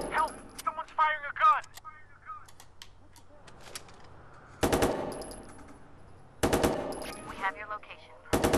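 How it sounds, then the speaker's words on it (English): Gunfire in the video game Watch Dogs 2: sharp bursts of automatic fire arrive in two clusters with scattered single shots between them, while in-game voices talk over the gameplay. "Someone's firing a gun!"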